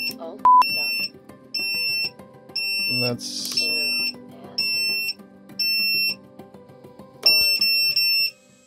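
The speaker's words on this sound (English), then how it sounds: "So the buzzer works." An electronic buzzer alarm, tested during a 12V monitor install aboard a sailboat, sounds in regular repeated pulses of high beeping, loud and close, while a person talks briefly between bursts.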